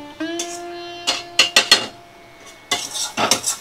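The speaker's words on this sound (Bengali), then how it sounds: "দেখো এইভাবে আমি নাড়াচাড়া করে নিচ্ছি, একদম হাই ফ্লেমে দিয়ে রান্নাটা করে নিচ্ছি" A dish stirred and sautéed in a pan on high flame, heard as a run of sharp metallic clanks and scrapes of a utensil against the pan in quick bursts, with a ringing tone at the start and little sizzle beneath.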